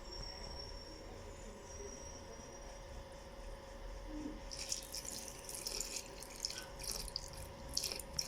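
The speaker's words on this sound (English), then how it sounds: "and lastly the water." Water poured into a bowl of flour, salt and butter for mille-feuille pastry dough, a soft, close splashing trickle with small bright drips. It starts partway through and follows a quiet stretch of room noise.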